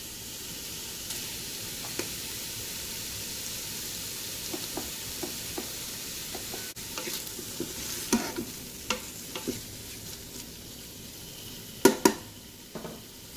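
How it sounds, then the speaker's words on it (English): Small pieces of stew meat sizzle steadily in olive oil in a Ninja Foodi on the sear function, a constant frying hiss broken by scattered clicks and clacks of stirring and utensils, a few sharper near the end. "I'm gonna go right in with my stew meat"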